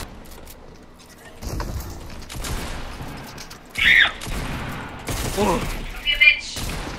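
Shotgun fire in the video game Fortnite, a few short bursts and blasts scattered among game noise, moderately loud, with players talking over it.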